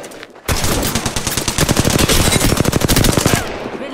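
Loud, sustained rapid gunfire in the video game Lifeline, with a continuous machine-gun burst of fast, evenly spaced shots that starts abruptly and lasts about three seconds before cutting off.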